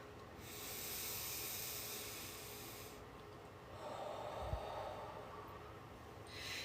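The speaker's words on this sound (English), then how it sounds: "Give me one big belly breath." One big, slow belly breath: a long airy inhale, a brief pause, then a softer exhale with a small bump, all faint and close with nothing else going on.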